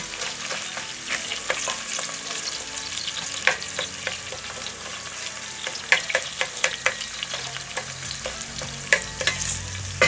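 Tomato paste frying in a pot makes a soft, steady sizzle, with scattered ticks and scrapes of stirring that grow busier toward the end.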